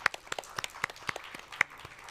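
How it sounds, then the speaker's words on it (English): Sparse, faint applause from a small audience at an Indigenous peoples' rights panel discussion, a loose scatter of separate claps. "Can we give a big round of applause?"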